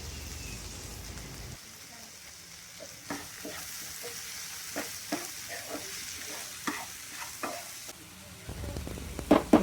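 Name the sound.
tomatoes sautéed with ginger and garlic, squid fry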